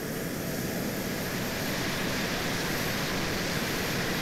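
A constant loud roar of an airplane's jet engine in the video game Arma 2: Operation Arrowhead, broadband and unchanging, filling the whole stretch with no voices.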